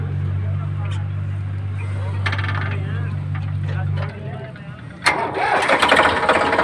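A used Sonalika 35 tractor at a rural tractor market cranks and catches, with a low steady drone that cuts out before a louder burst of engine noise, close and prominent.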